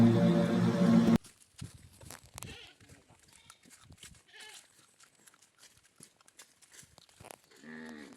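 Cow on a rural province farm lets out a loud, close moo lasting about a second, followed by quieter scattered animal sounds and rustling, with a faint bleat-like call near the end.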